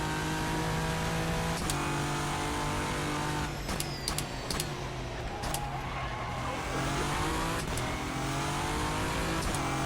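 A race car with a Wankel rotary engine in the rFactor 2 racing game, on tyres being tested for the 12 Hours of Sebring; the loud, buzzy engine holds a steady high drone, with several quick shifts and rev changes throughout.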